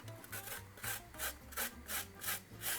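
Fresh turmeric root grated with the skin still on, a soft rhythmic rasping of repeated strokes at a steady pace, close and fairly quiet with no talking.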